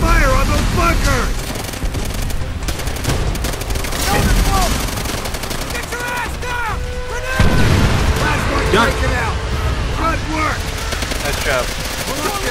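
Heavy gunfire, booms and explosions from Call of Duty: World at War combat around bunkers under flamethrower attack, loud and continuous throughout, with shouted in-game voices layered over the battle noise.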